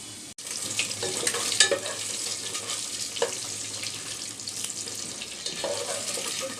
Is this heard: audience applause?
no